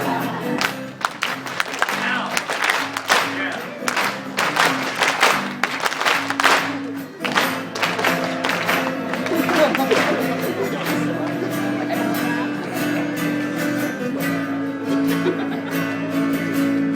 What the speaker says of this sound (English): You have a clapping part coming up.